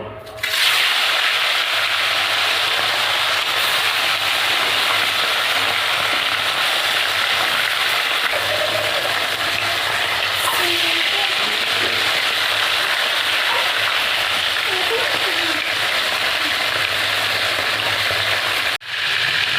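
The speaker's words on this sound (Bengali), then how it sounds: "মাছগুলো ভেজে নেব" Marinated fish frying in hot oil in a wok, a steady, dense sizzle that runs unbroken and fairly loud for nearly twenty seconds before a brief dip near the end.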